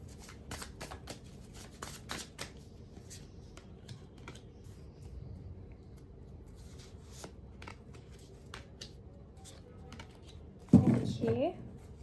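Tarot cards shuffled by hand: soft, papery riffling and light clicks run quietly through most of the span, ending with a louder, brief flurry of shuffling near the end.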